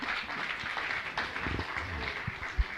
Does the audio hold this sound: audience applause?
yes